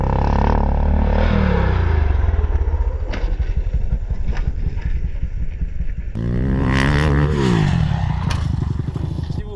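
A motocross bike engine revs loudly and continuously up close, rising and falling in pitch with clattering mechanical noise throughout.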